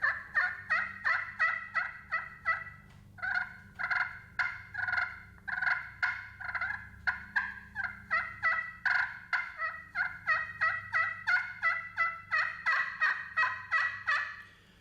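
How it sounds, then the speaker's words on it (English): A Pecker Wrecker slate turkey call with a Mozambique wood pot, worked in a long run of rapid, evenly spaced yelps and clucks that rise and fall slightly in pitch, close and clear without any talk. "I just know that I really like that slate call."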